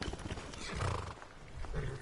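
A horse in the video game Skyrim whinnies loudly and close, a shaky rising-and-falling neigh lasting about two seconds with a snorting edge.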